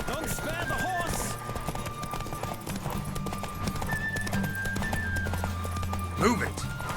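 Rhythmic hoofbeats of a galloping horse in The Witcher 3: Wild Hunt over a busy game soundtrack with music, a brief whinny, and a voice shouting over the action.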